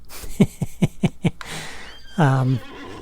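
A horse in the video game Disney Infinity 3.0 gives a clear whinny, opening with five quick, evenly spaced snorting pulses, then a breathy exhale and a loud, descending neigh near the end, close and isolated.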